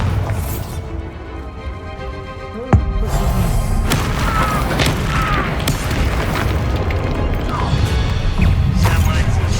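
Bombarda spell explosion in the Hogwarts Legacy video game, a sharp loud boom near the start followed by crashing debris, clattering impacts and dense game ambience throughout.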